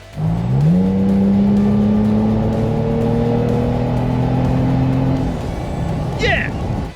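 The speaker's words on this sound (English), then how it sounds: "that awesome deep Magnaflow exhaust sound, you just open a couple windows and give it the beans" A Toyota 4Runner with a Magnaflow Overland exhaust revs up into a loud, deep, sustained rumble that holds, then drops away, ending with a brief high chirp.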